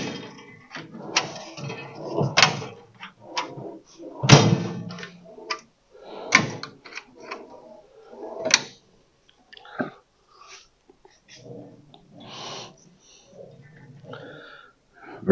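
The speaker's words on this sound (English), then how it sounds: "I do like the little latches." Latches on a new rolling tool chest cart snap and clack in a series of sharp, close clicks, mixed with softer handling rustle and thumps in between.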